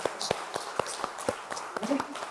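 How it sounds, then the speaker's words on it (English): A small audience claps at a live hypnosis leadership seminar, scattered sharp hand claps in a loose uneven rhythm, fairly quiet and sparse rather than a full ovation. "Give a round of applause."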